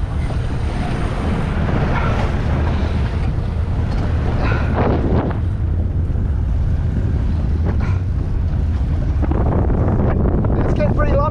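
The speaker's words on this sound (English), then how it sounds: "that wind's picked up early" Wind buffeting a 19 ft Fusion power boat out fishing at sea in Platypus Bay, a loud, constant roaring gust noise over the microphone with choppy water underneath, while someone talks intermittently.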